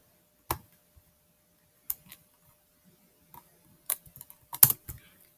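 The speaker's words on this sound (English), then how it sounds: "Type in Han Solo." Keys on a computer keyboard tapped in short, sparse bursts with long gaps of quiet, a few quick strokes clustered near the end, close and clear with no talk.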